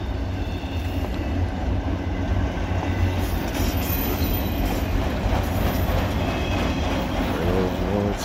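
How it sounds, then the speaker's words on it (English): A CSX autorack freight train rolls past close by as its last cars go through, with a heavy continuous rumble, rattling wagons and faint wheel squeal near the end. "And there's the end of the train."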